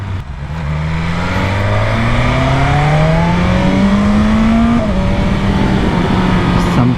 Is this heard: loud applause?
no